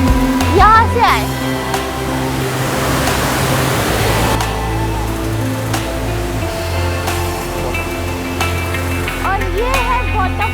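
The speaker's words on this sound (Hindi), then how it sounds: "और ये है वाटरफॉल, बहुत ब्यूटीफुल वाटरफॉल है।" The waterfall at the Double Decker Living Root Bridge in Meghalaya rushes as a constant broadband roar, with people talking over it nearby.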